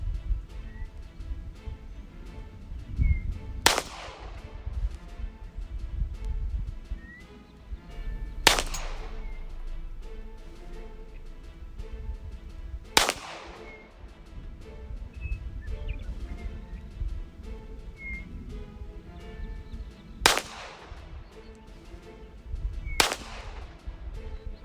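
At an outdoor shooting range in Martin Canyon, five loud, sharp gunshots ring out several seconds apart, each cracking and echoing over a quiet background.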